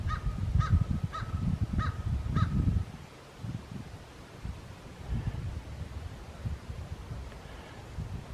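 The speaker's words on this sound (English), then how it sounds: "A lot of crows up here." Four loud, harsh crow caws in quick succession, then only wind and rustling leaves outdoors in a forest in February.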